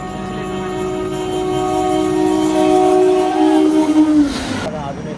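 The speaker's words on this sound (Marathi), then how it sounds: "देखा गाइस, इथून ट्रेन आली." A train rolls through a station in India on the way to Darbhanga, a loud rumbling approach with a steady tonal hum that sweeps down in pitch as it passes, then cuts off abruptly.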